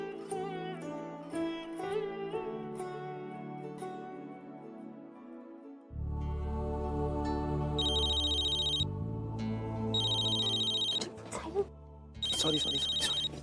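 A telephone rings in repeated electronic bursts separated by short gaps, loud and close, with music playing throughout; no one is heard speaking.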